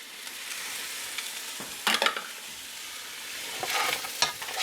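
Fried rice with soy sauce is stirred in a hot pan, giving a constant soft sizzle broken by several louder scraping stirs of the spatula.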